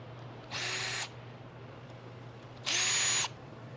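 A power screw gun whirs in two short bursts, each about half a second, backing Phillips screws out of a Troy-Bilt 2410 snow blower, close and alone over a low steady hum.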